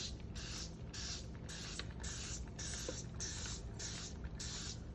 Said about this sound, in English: I'm going to take my spray bottle and I'm going to spray this down and get this ink moving